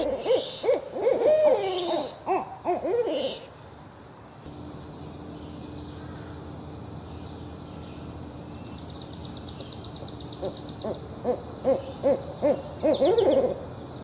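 An owl hooting in a series of low, rounded hoots, repeated in bursts with a quieter stretch of faint background hiss and a few softer distant notes in between, fairly close and clear.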